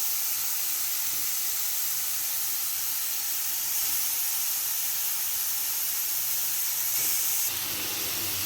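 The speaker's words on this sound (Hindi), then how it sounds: "अब मैं चिकन को इसी तरह डालूंगी" Chicken tikka pieces sizzle in a hot non-stick pan, a loud, dense, continuous hiss with faint crackles, swelling briefly near the end, with no one speaking.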